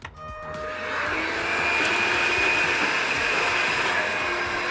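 Einhell TE-HV 18/06 Li cordless vacuum cleaner in eco mode, switched on and spinning up within a second into a steady, close whirring drone with a thin high whine that holds to the end.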